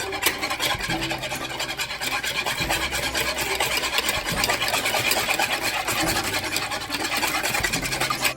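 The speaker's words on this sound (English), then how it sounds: "I'm gonna go ahead and whisk that up." Crepe batter with vanilla being whisked in a bowl, a steady rapid scraping and rubbing that runs continuously at close range with no talk.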